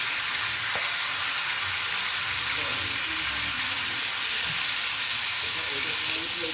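Bhetki fish heads fry in hot oil, producing a steady, loud, hissing sizzle that runs unbroken, with faint stirring and clinks beneath it and no talking.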